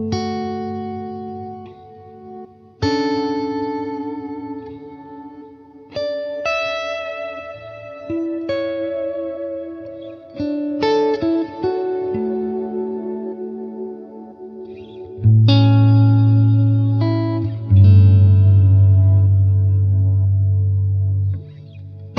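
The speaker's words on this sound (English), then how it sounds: "This tremolo auto pan, a definite useful one." An electric guitar run through a tremolo auto-pan effect on a Line 6 Helix, with clear picked notes and chords ringing out and pulsing in volume, loud and close, with no talking.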